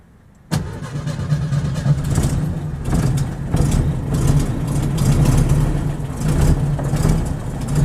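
A car engine cranks and catches, then settles into a loud, steady idle with a low, rough rumble that continues throughout.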